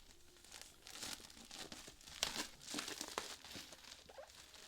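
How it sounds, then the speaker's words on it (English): A comic book artist edition is unwrapped from its plastic seal, with close, quiet crinkling and tearing of the film in irregular bursts over a few seconds, alone without talk. "let's get it out of the plastic first"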